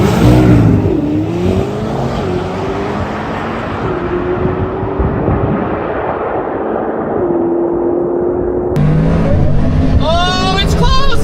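A 1250 hp Corvette ZR1X engine at full speed on a race track, a loud sustained roar with rising and falling pitch as it shifts gears, ending in a high whine and sharp bursts.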